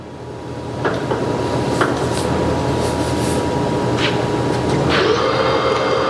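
A 1986 Turnmaster 1550 gap bed engine lathe runs with a steady mechanical hum, interrupted by occasional clunks and a brief hiss near the end.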